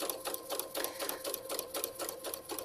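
A sewing machine stitches underwear fabric in a steady, rapid rhythm of needle strokes, loud and close with no talking.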